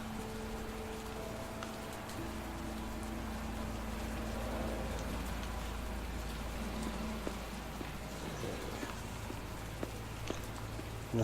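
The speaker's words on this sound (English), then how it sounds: "Why am I standing in the rain like a moron?" Steady rain falls in a Telltale Batman game scene, a soft continuous patter of drops on surfaces with faint footsteps mixed in, heard alone at low level without talk.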